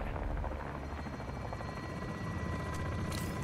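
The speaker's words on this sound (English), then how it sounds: "Look at that helicopter firing it up." A helicopter in the Modern Warfare 2 campaign spins up with a steady, loud rotor thrum and turbine whine, continuous and close throughout.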